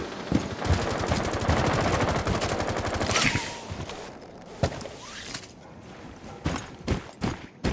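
Rapid automatic gunfire in Rainbow Six Siege on the Chalet map, loud sustained bursts early on, then sharper isolated shots and quieter gaps with a few trailing cracks near the end.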